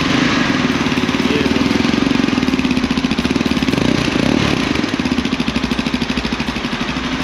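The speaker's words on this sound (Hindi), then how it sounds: "तो वैसे ये थी इसकी साउंड एग्जॉस्ट जो आपको सुनाया अभी, आइडियल और थोड़ा रफ करके दोनों सुनाया आपको मैंने" Close, loud exhaust of a Yezdi Adventure motorcycle, a rapid steady idle thump that swells briefly as the throttle is blipped, then settles back into an even, slightly rough idle.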